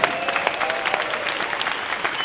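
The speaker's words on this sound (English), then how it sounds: "Give a round of applause, everybody." Dense, steady clapping from a sizable hackathon audience, close and lively throughout.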